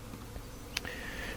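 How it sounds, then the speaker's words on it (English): Honey bees buzz softly around an open hive during a beekeeping inspection, a thin, steady hum with one brief closer buzz passing by. "There's not very many bees."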